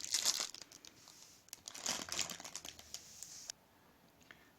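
Plastic trash bags crinkle and rustle up close in irregular bursts of crackling, briefly pausing and resuming before fading out.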